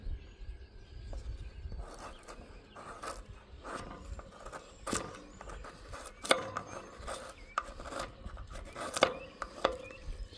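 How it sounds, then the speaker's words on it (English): A Morakniv Robust knife slices into fat wood, making repeated sharp scraping and chopping strokes at an uneven pace, close and fairly quiet, with faint outdoor background and no talking. "See, the Morakniv has no problem slicing up some fat wood"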